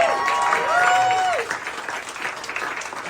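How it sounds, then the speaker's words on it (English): A comedy fundraiser crowd in Toronto applauds their host. A voice speaks briefly at the start, then steady clapping continues at a moderate level. "we're getting big round of applause,"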